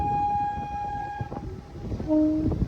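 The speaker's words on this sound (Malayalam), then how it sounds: "നമ്മുടെ ലോക്കോപ്പേൻ്റെ ഒരു ഹോണൊക്കെ അടിച്ചിരിക്കുകയാണ്" A passenger train's horn, sounded by the loco pilot, gives a long sustained blast followed by a second shorter tone, over the rumble of the moving train.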